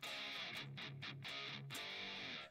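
Distorted electric guitar riff through an amp miked at the speaker's edge, sounding thinner and more distant, with short chugging stabs and sustained chords, no voices.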